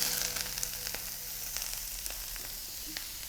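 Mushrooms fry in hot oil in a pan with a loud, continuous close sizzle, broken by occasional crackles and pops, and no voices.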